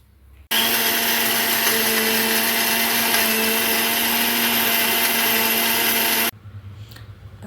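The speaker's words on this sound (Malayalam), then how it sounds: "ആ പീര നമുക്ക് മിക്സിയിൽ അടിച്ചെടുക്കാം" A kitchen mixer grinder blends roasted grated coconut with boiled, cooled water into a paste for Kerala thal curry, a loud, steady whirring roar that starts abruptly, holds for about six seconds, then cuts off.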